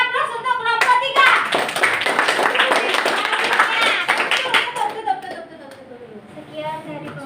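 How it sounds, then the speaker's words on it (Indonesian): A classroom of students clapping and applauding for group 3 after their presentation, a dense burst of hand claps that fades after about five seconds, with children's voices and chatter mixed in. "Beri aplaus untuk kelompok 3"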